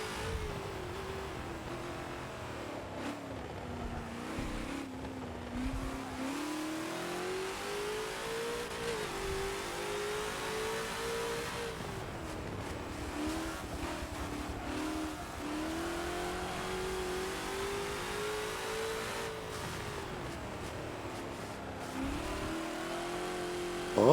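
A Ford GT40 race car in Forza on the Monza circuit drones steadily at high revs, its pitch rising and falling through gear changes and corners, sustained and alone without talk.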